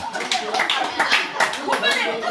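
Clapping from a small group at a birthday celebration for a company chairman, steady and fairly close, with a voice and chuckling mixed in.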